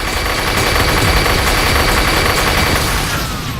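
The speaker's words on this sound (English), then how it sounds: "Somebody complained about me not using a machine gun." A spinning machine gun fires nonstop in the first-person shooter Unreal Return to Na Pali, a loud dense rattling fusillade filling the whole stretch with heavy booming underneath.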